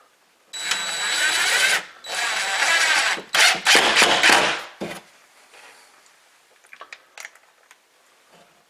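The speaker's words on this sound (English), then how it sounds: "We'll put a couple screws down this side" A power drill drives screws into a drywall patch, with two sustained whirring bursts followed by a series of shorter choppy runs, close up and fairly loud. After that come soft handling clicks.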